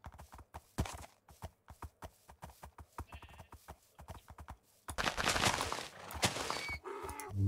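Horse hooves clip-clopping in the Minecraft video game, a quick, even run of hoof taps that gives way to louder, denser game noise with animal bleats near the end.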